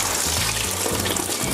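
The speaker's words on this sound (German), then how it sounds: "Lasse die Flüssigkeit einige Minuten lang ablaufen." Coolant drains out of an opened radiator hose on a Renault Clio 4 1.5 dCi, a steady gushing pour of liquid running continuously at close range with no talk over it.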